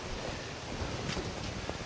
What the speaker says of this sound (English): There's a little waterfall, look.